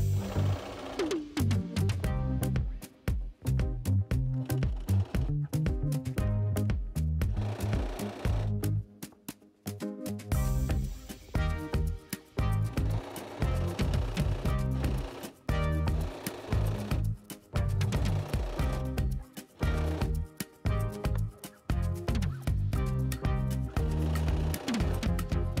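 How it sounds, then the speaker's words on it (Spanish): A sewing machine runs straight-stitch seams on fabric for a reversible tote bag, a close, loud, continuous rattling whir broken by short stops and restarts. "Ahora vamos a coserlas con costura recta así."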